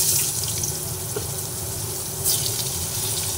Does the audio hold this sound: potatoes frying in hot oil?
yes